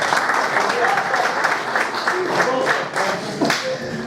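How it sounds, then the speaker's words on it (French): Audience applause at the closing ceremony of a poker tournament, a steady wash of many hands clapping that holds at an even level throughout, with occasional voices underneath. "Allez, on applaudit bien fort."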